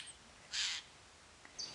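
A Eurasian jay gives one harsh, raspy screech that stands out clearly, with a couple of shorter high calls around it over quiet outdoor background.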